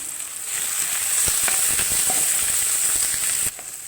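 Spices and ground powders sizzle and fry steadily in a hot pan while being sautéed for egg poriyal, a close, bright hiss with scattered crackles and occasional stirring clicks, with no voices.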